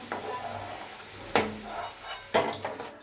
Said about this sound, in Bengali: আলুটা প্রথমে ভেজে নেব আলুটা লাল লাল করে ভেজে তুলে রাখবো